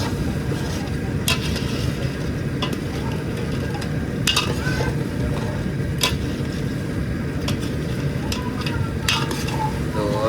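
Vegetable curry being stirred in a pan, a steady scraping and sizzling texture throughout with occasional sharp clinks of the spoon against the pan; a voice talks faintly underneath.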